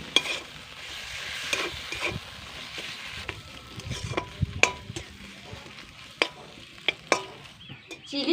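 Chicken cooks in a pan with chili sauce and tomato ketchup, sizzling softly as a utensil stirs it, with scattered sharp scrapes and taps against the pan, close and fairly quiet.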